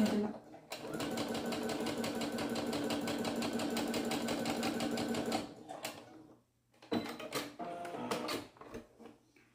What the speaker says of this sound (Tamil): அழகாக வந்து ஸ்டிச் பண்ணி எடுத்துகிட்டு வந்துட்டோம்.